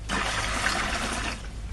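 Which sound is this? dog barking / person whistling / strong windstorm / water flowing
water flowing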